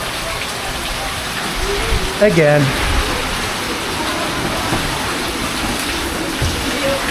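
Heavy typhoon rain from Typhoon Fung-wong pours down on a flooding home in Bicol, a steady, loud, dense roar that fills the whole stretch, with a brief voice speaking over it.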